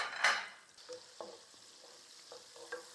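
Sliced onions browning in oil in a pan for a South Indian potato spinach rice give a soft frying sizzle. Spoon stirring and scraping strokes come at irregular intervals, close and moderately quiet, with no talk.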